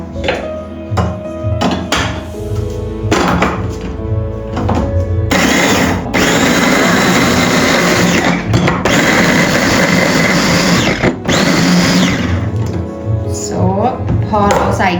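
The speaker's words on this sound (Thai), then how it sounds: "เราก็จะปั่นก่อนแล้วเราค่อยจะใส่ส่วนผสมอื่นไปนะคะ" A small blender grinds garlic for red curry paste in loud, close motor bursts that start and stop repeatedly, whining and rattling, with someone talking between the runs.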